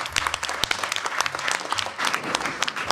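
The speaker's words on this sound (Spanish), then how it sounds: "un aplauso." An audience applauds a quiz team at a knowledge marathon in Astillero: dense, close clapping runs steadily throughout with no talk over it.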